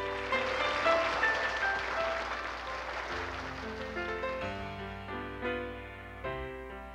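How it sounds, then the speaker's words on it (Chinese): Studio audience applause on a Taiwanese TV variety show, sustained broadband clapping that blends into and gives way to a piano-led musical intro for the song Danny Boy. "来，掌声鼓励"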